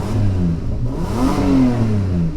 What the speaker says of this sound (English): we're going to start the car, and you're going to hear the sound of the beast.